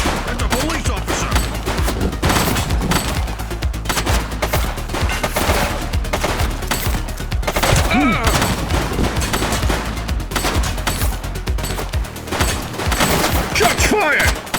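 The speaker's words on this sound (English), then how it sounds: "Shots fired!" Sustained gunfire fills a police video game street chase. Dense automatic bursts and scattered shots crackle for the whole stretch with a constant rumbling game background, loud and close, with voices calling out now and then under the shooting.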